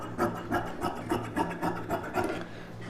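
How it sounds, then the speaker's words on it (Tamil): Scissors snip through blouse sleeve fabric in a steady series of about ten close crunching cuts, a regular rhythmic chopping with no talk. "அப்படியே வச்சுட்டு கொஞ்சமாக ஒரு 1/4 இன்ச்சு எக்ஸ்ட்ரா விட்டு கட் பண்ணிக்கலாம்."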